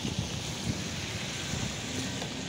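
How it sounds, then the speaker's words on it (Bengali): A steady rush of strong wind at a sea beach with low rumbling buffets on the microphone, fairly quiet and continuous. "অনেক বাতাস প্রচুর বাতাস"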